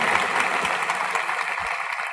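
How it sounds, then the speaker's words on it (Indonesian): A church congregation claps together during a sermon, a dense, fairly quiet patter of many hands filling the room steadily for a couple of seconds. "Tepuk tangannya nggak boleh lemah"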